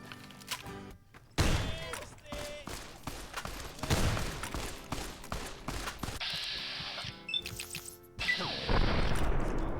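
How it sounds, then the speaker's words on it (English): Shotgun blasts from the video game Fallout: New Vegas, several loud, sharp reports fired at irregular intervals amid crashing impacts and other game effects. "Shotgun."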